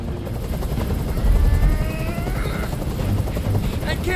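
A helicopter hovers overhead in the video game Detroit Become Human, its rotor a steady, loud low-pitched chop that continues throughout, with faint tonal game sounds layered above.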